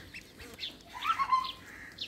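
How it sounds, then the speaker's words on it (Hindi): Duck chicks eating rice make soft, high peeping calls, a few short chirps and then a brief cluster of louder calls near the middle, heard close over quiet background. "नन्ना चूजा अभी भी चावल खा रहा है।"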